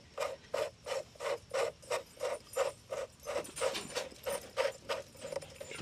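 A 1.5-inch PVC adapter wrapped in Teflon tape is threaded into a Hayward 2-speed above-ground pool pump. It gives a steady run of rhythmic ratcheting scrapes, about two per second and close up, with no talking.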